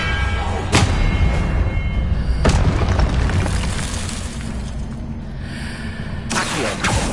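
Confringo blasting-spell explosions in Hogwarts Legacy, heard as three deep booming bursts spread across several seconds over a steady rumbling game backdrop, with no talk.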